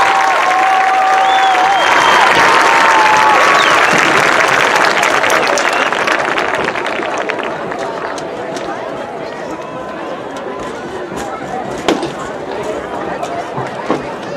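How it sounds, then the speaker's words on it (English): Crowd applause and cheering for a graduate at the Brentwood High School Class of 2023 commencement ceremony, loud and sustained at first, then easing to a thinner patter of clapping. "Let's offer one more round of applause for this great graduate."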